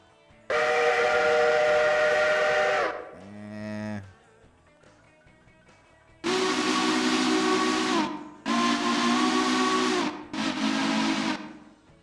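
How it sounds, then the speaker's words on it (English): Steam locomotive whistles in the Railroader train game, one long blast, then a short lower wavering tone, then three strong close blasts in a row, loud with no talk. "That is actually a perfect whistle for that engine."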